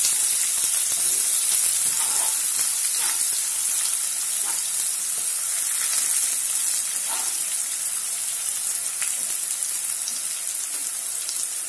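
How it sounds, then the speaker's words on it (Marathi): Finely chopped onions fry in oil with mustard seeds and cumin for pav bhaji, giving a loud, dense, continuous hiss like rain that holds steady throughout, with no voices. "कांदा छान परतून घ्यायचा तेलावरती."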